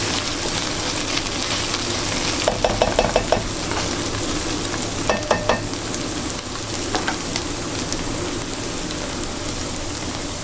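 Potatoes for tortang giniling fry in a pan under a loud, steady sizzle, with bursts of rapid scraping stir strokes in the middle.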